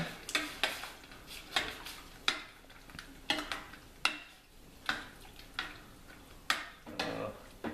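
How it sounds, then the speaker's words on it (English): A spoon stirs red chili paste into boiling Korean spicy tofu soup, making repeated rhythmic scraping clinks against the pot over a soft bubbling bed, close and moderately quiet. "I'm going to put this red paste in there and continue to really strong boil. Mix it well in."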